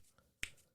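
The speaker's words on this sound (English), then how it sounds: "I'm snapping my fingers" A single sharp finger snap cracks out once near the middle, close and crisp, with quiet room background around it.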